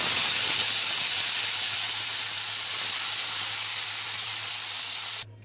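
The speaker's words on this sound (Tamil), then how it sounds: "இதை நல்லா புழிஞ்சிட்டு இந்த கோஸை இதில் சேர்த்துருவோம்." Squeezed cabbage drops into a pan of fried green chillies, and a steady bright hiss and sizzle runs throughout, close and even, under a low hum before cutting off abruptly near the end; no one speaks.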